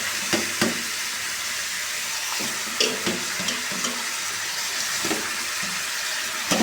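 Meat sizzles and fries in a pot for kosha, a steady dense hiss broken by occasional scraping and clinking of a spoon stirring against the pot.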